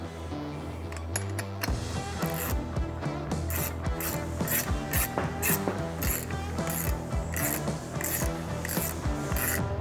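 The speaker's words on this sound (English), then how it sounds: "take your 1/2-inch wrench and 1/2-inch socket and go ahead and tighten these 5/16 bolts" A hand ratchet wrench with a 1/2-inch socket tightening 5/16 bolts while assembling a Vyper adjustable armrest, giving steady repeated clicking strokes, close and fairly loud, with no talking.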